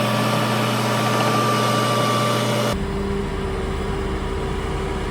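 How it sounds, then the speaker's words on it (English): Bulldozer engine straining to push heavy soil at the edge of a farm pond, a steady low diesel drone that shifts pitch abruptly midway and continues without pause. "The dozer don't want to push it."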